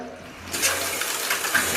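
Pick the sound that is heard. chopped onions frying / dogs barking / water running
water running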